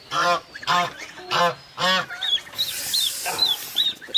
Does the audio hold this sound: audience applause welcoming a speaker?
no